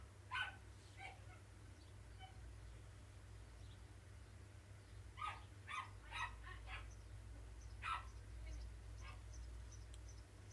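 A dog barking in short high-pitched yips, heard in a few scattered bursts over a low steady hum, fairly faint and distant, with no talk.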